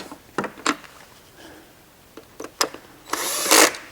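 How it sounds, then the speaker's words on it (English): A key switch is bolted onto a conveyor metal detector: a few sharp metallic clicks and ratchet-like taps spaced irregularly, then a short burst of whirring from a power tool, close and fairly quiet, with no talking. "I think I'm just going to put one bolt in it"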